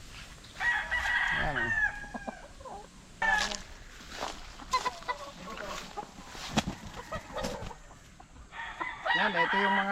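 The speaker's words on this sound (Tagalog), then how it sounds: "Ito yung mga early bird natin na mga stag." Young gamefowl stags on a farm crowing and clucking, several birds with overlapping strained crows both near and farther off, while someone briefly speaks.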